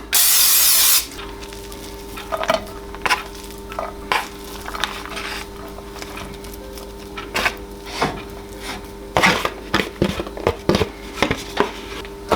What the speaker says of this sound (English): start browning up our meat that's going to go into the sauce